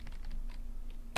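Close, quick keystrokes on a computer keyboard as a Linux system command is entered, a run of soft clicks ending in one louder key strike, with no talking.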